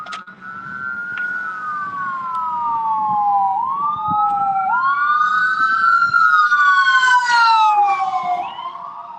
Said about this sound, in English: We let the ambulance pass